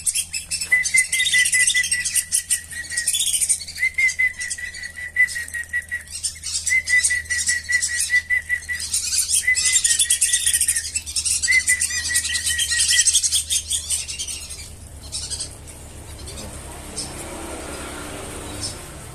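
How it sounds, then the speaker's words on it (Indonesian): Repeated high-pitched whistling calls from feeding whistling ducks ring out over a rustling, fluttering background, with a low hum underneath. "burung belibisnya pada makan"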